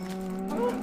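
A single short cow moo from Minecraft, close and clear, rising slightly in pitch before cutting off.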